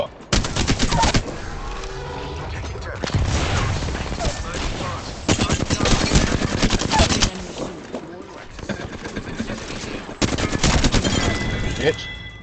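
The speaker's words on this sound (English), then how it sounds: "Getting shot at." Bursts of automatic gunfire in Apex Legends, rapid loud volleys recurring every few seconds, with a player occasionally talking underneath.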